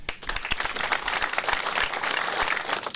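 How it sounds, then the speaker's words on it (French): Audience at a civic gathering honouring local elected officials applauds for several seconds, a dense, steady wash of clapping with a few sharper, louder claps standing out near the microphone. "ça leur ferait plaisir qu'on les applaudisse."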